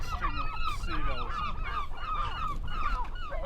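A noisy cluster of large birds honks and calls repeatedly at a UK seaside town, harsh overlapping cries close by and continuous, with no voices.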